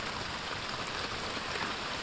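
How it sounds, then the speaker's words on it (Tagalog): Steady rain falling outdoors where a wooden boat is being repaired, a constant dense hiss with no breaks and no voices. "Ay, ang ulan."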